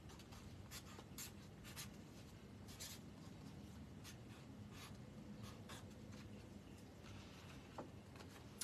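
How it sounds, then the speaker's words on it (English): A Sharpie marker scratches across a card base, steady faint squeaky strokes in quick, irregular bursts over a quiet room hum. "I'm going to find my Sharpie. I'm so sorry. And I'm going to write the card base down."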